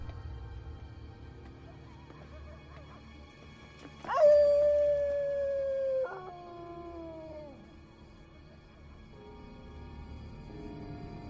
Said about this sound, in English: People don't make dog noises.